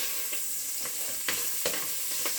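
Bacon sears and browns in a pan, a steady close sizzle and crackle with occasional soft pops and stirring scrapes, no voices over it.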